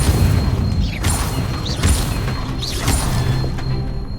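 Fire spell Incendio cast in the video game Hogwarts Legacy: a few punchy booming bursts with whooshing flares spaced about a second apart, close and moderately loud over a steady game background.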